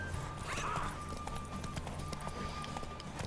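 Hoofbeats of Roach the horse in The Witcher 3: Wild Hunt, a steady clip-clop of trotting hooves over ambient game sound, close and moderately loud, no voices.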